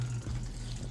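Liquid from canned whole-kernel corn pours and splashes briefly into a container, a short, soft gurgling stream close by.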